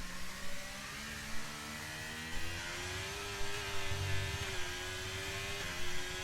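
Alfa Romeo Formula 1 car in the F1 23 racing game at Silverstone, an onboard lap with a high engine whine rising steadily through the gears. The whine stays loud and continuous, and short shifts and rumbles break in now and then.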